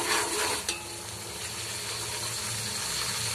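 Garlic-ginger paste sizzles steadily in a hot pan, a dense continuous frying hiss with a brief clatter of stirring near the start, no voices.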